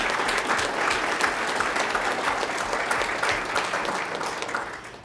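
A council meeting audience claps steadily and fairly loudly for about five seconds, a dense wash of hand claps that holds even and begins to taper off at the very end.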